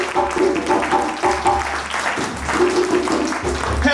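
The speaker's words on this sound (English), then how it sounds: "They're clapping." Steady audience clapping, a thick continuous patter with voices and tonal sounds running underneath throughout.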